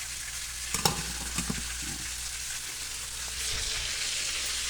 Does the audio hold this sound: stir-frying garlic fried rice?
yes